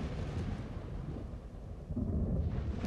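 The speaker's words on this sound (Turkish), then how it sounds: "Bir fırtına patladı. Ve fırtına tanrısı korkunç bir şekilde gürledi." Deep thunder rumbles through a storm, a continuous low roll swelling louder toward the end, with no voices present.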